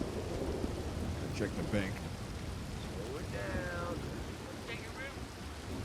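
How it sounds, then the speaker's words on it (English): A steady roar of pouring rain and rumbling thunder from a thunderstorm in the Red Dead Redemption 2 video game, constant and enveloping, with brief voices speaking over it. "So raining here. It's pouring rain."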